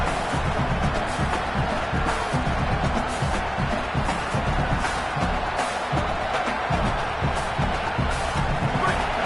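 A football stadium crowd roars steadily throughout, a broad, continuous wall of cheering and shouting from a large audience, with no clear individual voices standing out.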